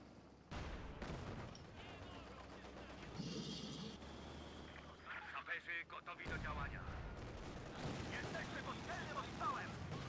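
Video-game mortar and artillery fire thuds and booms in rolling bursts, with rapid crackling gunfire between, loud and dense, with a voice talking over the battle.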